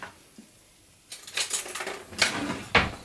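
A spoon scraping and clinking against a paella pan of simmering rice, several close metallic knocks and scrapes after a quiet moment, ending with a sharper clink.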